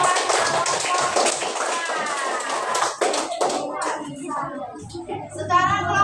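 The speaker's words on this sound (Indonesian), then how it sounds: "Tepuk tangan buat kelompok" A fourth-grade class claps together for a group during a religious education lesson. The sharp, rapid claps blend with lively overlapping children's voices and chatter throughout.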